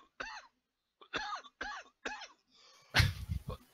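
A person with flu coughing in a series of four short, dry barks, close and fairly soft, followed by a burst of rustling noise.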